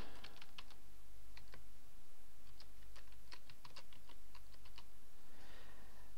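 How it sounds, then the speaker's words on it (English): Typing a username and password on a computer keyboard during a WordPress login, a run of crisp close keystrokes in uneven bursts over a steady low hum, no talking. "enter the username and password"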